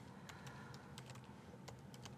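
Computer keyboard keys click in quick, irregular bursts, faint and close, with no talk over them.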